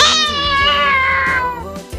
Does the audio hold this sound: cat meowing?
yes